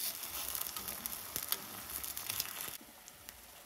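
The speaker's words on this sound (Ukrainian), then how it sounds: "З одного боку і перевертаємо, обсмажимо і з іншої сторони." Eggplant slices sizzle and fry steadily in a hot pan after being flipped, a continuous close crackle that drops to a quieter hiss near the end.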